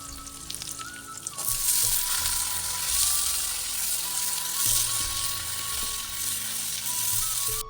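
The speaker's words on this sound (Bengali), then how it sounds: "এখন এসে বসালাম আলু ভাজা" Potatoes frying in a pan on a home kitchen stove give a steady, loud sizzle that starts abruptly and continues with little variation, close by, with faint clatter of stirring.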